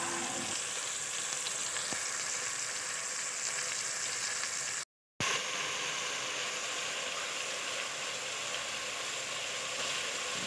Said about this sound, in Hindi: जाएंगे टमाटर और हरी मिर्चें, और इनको भी हमें थोड़ी सी देर के लिए फ्राई कर लेना है